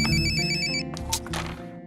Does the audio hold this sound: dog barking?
no